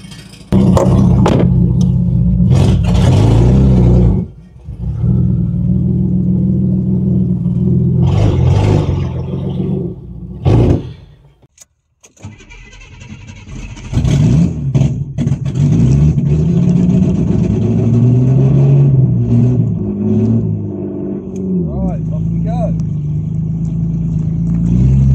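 A Ford Granada Mk2 2.8 Ghia X, abandoned for years, runs loud and close while it warms up and drives, its revs swelling and dropping. There is a brief lull, then a near-silent gap, before the engine surges again and settles into a steady run.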